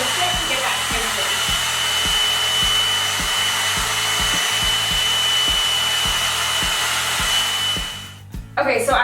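A Revlon-style one-step hair dryer volumizer runs on its high setting, giving a loud, steady whooshing roar for most of the clip before cutting off near the end, with a few faint handling sounds afterward.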